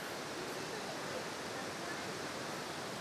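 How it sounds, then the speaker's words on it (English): Greeter Falls waterfall rushing at a campsite hike, a steady broadband roar filling the whole moment, moderately loud and unbroken. "it's starting to sound like waterfalls again."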